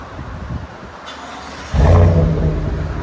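Straight-piped GMC Yukon AT4 with a 5.3 V8, idling low and rumbling nearby before the throttle blips into a sudden loud, deep rev that holds and then settles, heard alone without speech.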